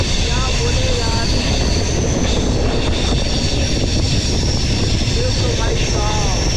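The Chhattisgarh Sampark Kranti Express (12824) passing close by, a loud, unbroken rumble and clatter of rolling coaches that fills the whole stretch.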